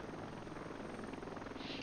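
A helicopter in the co-op video game Heliborne gives a steady, dense rotor and engine drone. It stays low and even throughout the brief stretch, with no talk heard.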